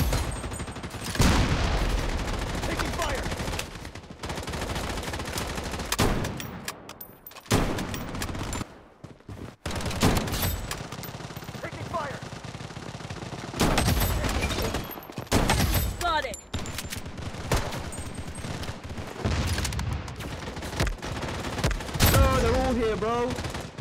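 Sniper shots and rapid gunfire from the first-person shooter Project BloodStrike, with loud repeated bursts and single cracks amid game effects, mixed with a voice talking.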